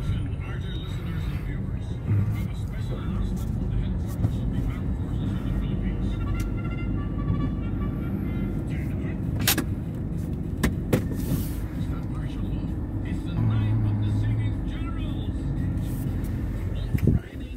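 Road traffic on a morning commute, a continuous rumble of cars and engines passing nearby, heard under ongoing talk.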